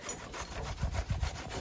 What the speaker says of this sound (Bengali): এখানে আমাদের আমগুলা ঘষাঘষি করা হচ্ছে, তো বটি দিয়ে কাটবো না, এটার মধ্যে ঘষে নিলে আম মাখানোটা বেশি মজা লাগে